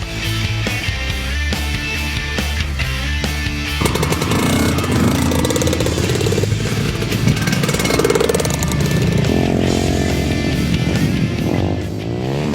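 Several trail motorcycles roar along a beach shoreline, their engines droning and revving loudly and continuously for over twelve seconds with shifting pitch as they ride.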